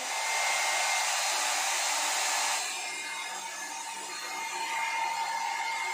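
A Vega Go-Style 1200 hair dryer runs with a loud, steady airflow roar that stays close and continuous, dipping slightly in level partway through before returning to full strength.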